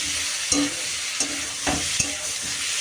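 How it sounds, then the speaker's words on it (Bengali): Onion, ginger and tomatoes fry in a pan while being stirred: a continuous close sizzle with repeated scraping strokes of the spoon at an uneven rhythm, no talking. "পেঁয়াজটা ভাজা ভাজা হয়ে গেছে এবার দিয়ে দিলাম আদা আদাটা দিয়ে এবার টমেটোটাও দিয়ে দেবো"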